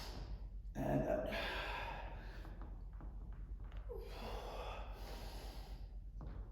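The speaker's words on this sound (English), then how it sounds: "Breathe in and out." Heavy, audible breaths and snorting exhales during a HIIT and strength workout, rhythmic and fairly close, with a few grunting gasps.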